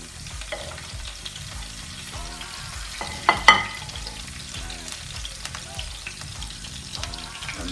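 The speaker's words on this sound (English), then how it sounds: "You will see the oil is heated and it's immediately popping. So we throw in the green chili." Cumin seeds and green chili sizzle and pop in hot oil for an Indian tomato gravy base, a loud, steady frying crackle stirred in the pan with a couple of sharper bursts partway through.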